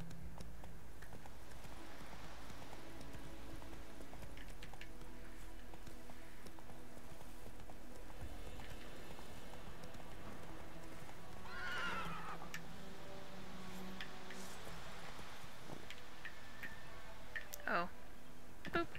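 Roach, the player's horse in The Witcher 3, gallops with steady clip-clop hoofbeats under busy game ambience, with a whinny partway through and a voice talking over parts of it.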